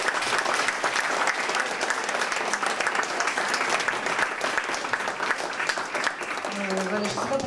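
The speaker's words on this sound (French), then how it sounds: "vous pouvez les applaudir parce que c'est quand même beaucoup de travail" Steady applause from a school audience fills the room after a children's CM2 class performance of songs, dense and continuous throughout, with a faint sung or spoken voice creeping in near the end.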